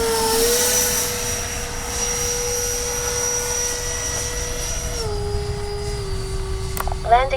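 A Kavan Skyfox L-39 80mm RC jet makes a gear-down pass, its turbine whine holding steady, then dropping in pitch as it passes. Someone speaks over the engine.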